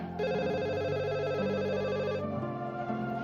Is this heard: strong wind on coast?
no